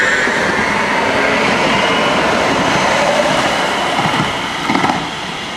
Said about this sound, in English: That train's coming over here.